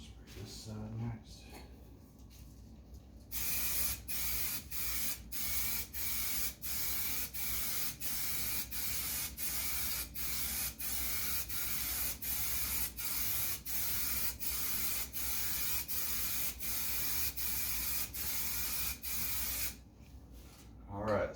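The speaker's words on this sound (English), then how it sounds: "It says to spray both sides." Long continuous hiss of an aerosol adhesive spray onto leather, broken by brief regular pauses as the can is pulsed, close up and steady for most of the clip.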